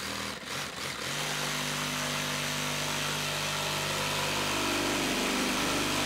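A DeWalt 20V MAX XR brushless cordless jigsaw (DCS334B) runs a smooth cut on its variable speed trigger, a loud continuous buzzing rasp after a brief hesitant start, its pitch rising slightly toward the end.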